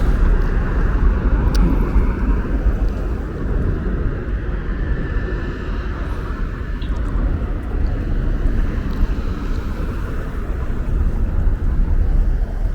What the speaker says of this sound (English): This is an exit point for the highway of the bridge, so like they're coming off all these cars you see, they're coming off the bridge.